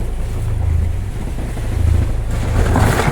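A sailboat's engine runs at sea during an Atlantic crossing from Cape Verde to Brazil, a steady low drone mixed with loud wind and rushing water against the hull, constant and close.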